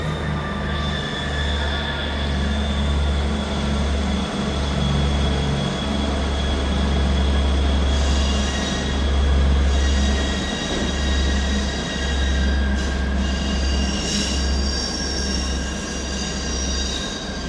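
A ScotRail train, the 13:24 service from Dundee to Arborough, pulls out of Dundee station with a steady low diesel rumble and a thin wheel squeal, loud and close for the whole stretch.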